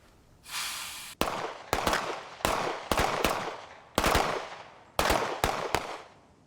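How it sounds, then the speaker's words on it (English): Gunshots fired at turning targets on a shooting range, a string of sharp, loud reports in quick pairs and triplets with short pauses between, ringing out alone. "The first time the target's turned to face you, shoot twice. The next time the target's turned to face you, shoot 3 times."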